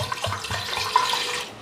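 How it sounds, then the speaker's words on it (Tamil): Water poured from a tap or vessel into a steamer pot on a stove for cooking kozhukattai, a steady close splashing stream that tapers off at the end. "இதில் கொஞ்சம் தண்ணி ஊற்றிக்கலாம்."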